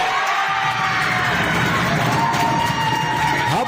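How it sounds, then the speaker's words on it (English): A loud Notre Dame School crowd at a girls' high school basketball game cheers and shouts continuously, with whoops and high voices layered over a steady roar while a commentator's voice runs through it. "How about that Notre Dame crowd here for this backyard brawl, making a lot of noise."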